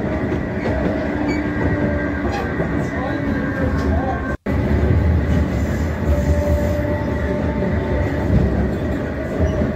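A Kolkata Metro Blue Line train runs between stations toward Dum Dum with a continuous loud rumble and clickety-clack of wheels on rail, briefly cutting out midway.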